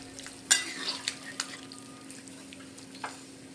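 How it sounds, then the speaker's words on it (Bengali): Fish and potato curry gets stirred in a pan after water goes in, giving soft scraping and a few distinct utensil knocks against the pan over a low, steady simmer. "এবার আমি এর মধ্যে দিয়ে দেব জল দিয়ে খুব ভালো করে নেড়ে চেড়ে নেব।"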